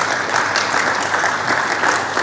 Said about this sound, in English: a big round of applause for our speakers in this panel discussion